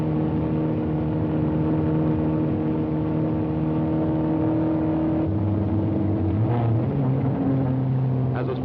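A Ford Mustang I sports car runs on the closed-circuit road course at Daytona Beach with a steady, loud engine drone whose pitch shifts as it changes speed partway through.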